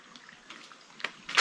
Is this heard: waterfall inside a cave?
yes